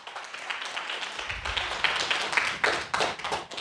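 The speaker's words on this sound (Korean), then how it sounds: "박수 쳐드리세요" A church congregation claps together in a moderately close, uneven burst of hand claps that grows denser partway through and keeps going to the end.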